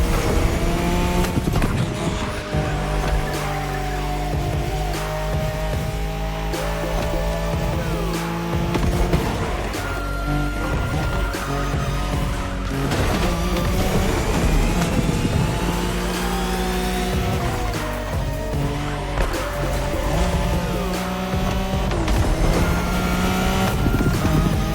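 Nissan Skyline racing in The Crew Motorfest, a steady loud engine roar with shifting harmonic pitch sweeps as gears change, continuous throughout with dense layered game music or ambience underneath.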